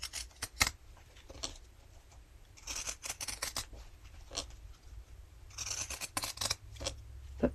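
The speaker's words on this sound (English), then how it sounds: "So I go ahead and cut it fairly close to the stitch." Scissors trimming sewn fabric for a coaster close to the stitch line, quiet crisp snips coming in scattered clusters over a soft background hiss, close up, with no voices.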